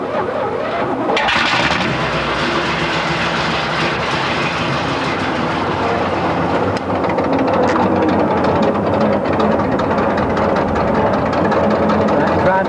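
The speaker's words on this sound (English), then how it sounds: "let the clutch out, the engine turns over, and if you're lucky, it starts." A vintage car engine turns over and catches, then settles into a loud, rough, continuous mechanical rumble close by.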